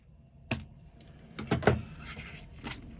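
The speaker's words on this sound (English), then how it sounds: "So now I can trim off the excess zipper tape" Several sharp snips and clicks of scissors trimming excess zipper tape, spaced irregularly and close by, with no talking.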